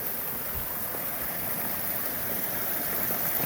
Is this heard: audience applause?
no